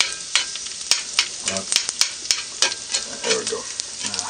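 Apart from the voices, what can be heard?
onions sauteing in a pan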